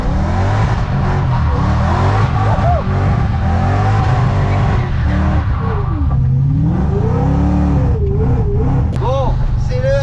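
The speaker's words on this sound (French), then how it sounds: "le compresseur, là, on l'entend bien" A supercharged car accelerates hard with traction control switched off, its engine roaring loudly and continuously while a high supercharger whine rises and falls through the gears, with a voice speaking over it.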